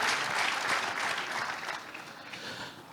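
An audience applauding at a live talk show, a dense, even wash of many clapping hands that stays strong at first and then slowly eases off, close and full, with no speech over it.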